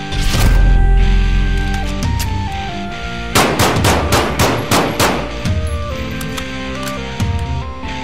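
Gunfire rings out at a shooting range during testing of 3A body armor vests. Rapid bursts of close, sharp shots cluster mid-clip, layered over sustained tonal music-like sounds.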